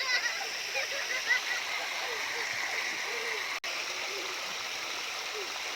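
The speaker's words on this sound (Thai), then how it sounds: "เสียงน้ำไหลตัดตาเลย" Steady rushing water flows continuously, like a stream or small waterfall, with splashy gurgles throughout and a brief dropout partway through.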